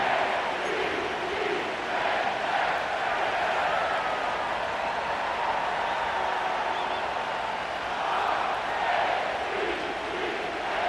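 A stadium crowd roars continuously at M&T Bank Stadium in Baltimore within Madden NFL 25, a dense, steady wash of cheering that holds at an even loudness throughout.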